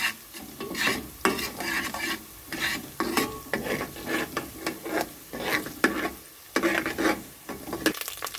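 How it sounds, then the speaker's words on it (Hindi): Ginger and garlic cook in hot ghee for a Lahori chicken dish while a spoon stirs them, giving a close, steady sizzle broken by rhythmic scraping strokes against the pan. "थोड़ी देर इसको घी में पकाएंगे। ताकि अदरक और लहसुन की अच्छी से खुशबू आ जाए।"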